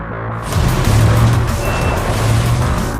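A car being driven during a driving lesson in Alaska, a loud steady engine rumble with a high beeping tone over it and no talking.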